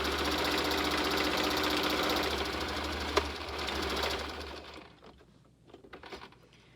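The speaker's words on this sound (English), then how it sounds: "all I'm doing is a straight stitch on all of these so that I can make sure that they are how I want them to be" A sewing machine hums close and loud, running straight stitches along the seams of a rococo cosplay dress, then stops, leaving a few quieter clicks and handling sounds.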